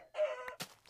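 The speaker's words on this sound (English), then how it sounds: "Chickens! Why do you keep spawning?" Chicken clucking in the Minecraft video game, one short, close squawk followed by a couple of faint clicks, heard alone.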